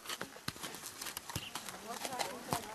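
Horse hooves clip-clop in an uneven walking rhythm while a rider travels through rural countryside, close and fairly quiet, mixed with rustling and voices talking.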